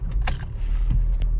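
A car starts up with keys jangling close by, the engine settling into a steady low rumble under a few light metallic clinks, and no talking.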